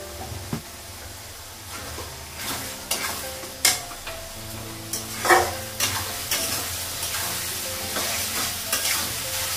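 Spices with turmeric and salt fry and get stirred in a pan at home, a steady sizzle under repeated scraping strokes of the spoon, close and fairly loud, with no talking.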